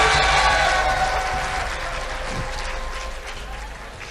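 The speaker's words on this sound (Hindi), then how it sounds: "हामिद मीर साहब के लिए तालियां बजाइए" Crowd applause at a live literary festival event in Lahore, a loud, dense roar of clapping and cheering that holds steady and slowly eases, with a faint tonal hum running underneath.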